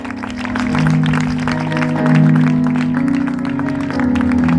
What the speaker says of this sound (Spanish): Dele palmas en esta hora.